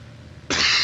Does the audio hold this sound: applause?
no